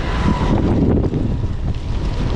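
Strong gusting wind on a stormy evening walk outdoors, roaring and buffeting loudly against the microphone without a break, with no speech.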